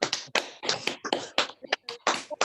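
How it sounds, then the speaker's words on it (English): Applause from online event participants, several people clapping in uneven, separate bursts over a few seconds, close and somewhat sparse. "If you want to unmute and give a round of applause or just wave your hands in the air"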